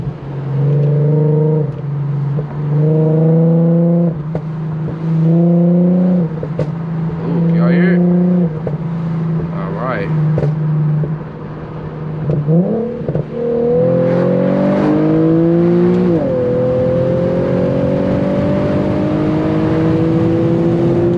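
Infiniti Q50 engine pulling hard under acceleration, a loud rising engine note that climbs through the gears with brief drops between, with background music running underneath.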